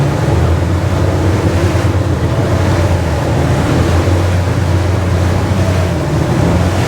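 An Aquila Molokai power boat speeds across ocean waves with a constant loud roar of hull slap, spray and wind buffeting, steady throughout.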